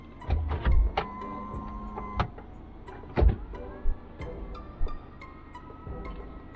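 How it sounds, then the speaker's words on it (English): The retractable hardtop of a 2017 Mazda MX-5 Miata RF lowers, a close electric motor whine rising and falling in several stages, separated by mechanical clunks and thumps as the panels lock into place. "I'm gonna go ahead and put the top down because it's beautiful weather"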